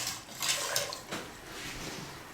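Egg yolks and whole eggs being mixed in a bowl, with soft scraping, clinking and sloshing strokes of a whisk or spoon, close and quiet, with no voices.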